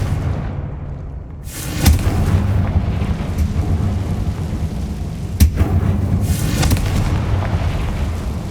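A Confringo spell blast in the video game Hogwarts Legacy produces a heavy booming explosion followed by a sustained rumbling roar, with a second sharp crack midway, loud and close.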